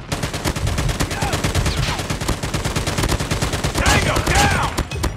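A sentry gun in a Call of Duty-style shooter fires a fast, steady stream of automatic rounds, loud and close, with evenly spaced rapid shots running the whole time.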